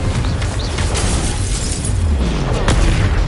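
A Confringo fire curse blast in Hogwarts Legacy: a loud, dense rumble of booms and bursts with low thuds, a heavy explosive roar running throughout with no speech.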